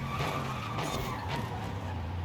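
Mercedes AMG GT3 race car slowing down in Forza Horizon 5, a steady loud engine drone with a low rumble and some tire noise, continuous and alone.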